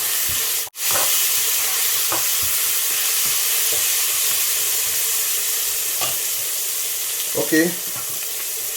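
Concentrated tomato paste fries in a pot with a continuous loud sizzle and hiss, broken by occasional scraping stirs; a voice speaks briefly near the start.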